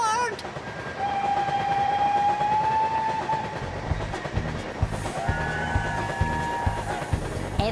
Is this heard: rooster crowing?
no